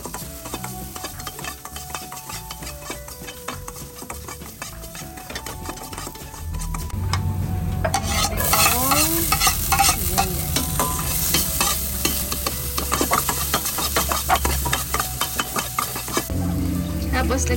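Ginger sautéing in a pan for beef and broccoli, with a steady sizzle that grows louder partway through as it is stirred, scraping and clinking of the utensil against the pan close by, no talking.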